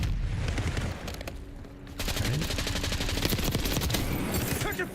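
Automatic gunfire in Black Ops 6 rattles in rapid, loud bursts, with a short lull before a second sustained volley.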